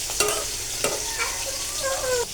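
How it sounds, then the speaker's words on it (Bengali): Okra frying in a pan while being stirred, a steady oily sizzle broken by a few sharp scraping strokes of the spoon, close and clear with no talking. "এই যে এখানে যে ঢেঁড়স ভাজিটা বসেছি, আমি আরও একবার নেড়ে দিচ্ছিলাম, এখন আবার নেড়ে দিচ্ছি"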